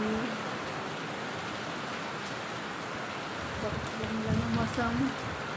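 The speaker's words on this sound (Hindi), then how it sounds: "ओह माय गॉड, इतनी तेज बारिश हो रही है, अंदर तक पानी आ रहा है।" Heavy rain pours steadily as a dense, even wash of noise, with a voice speaking faintly underneath it.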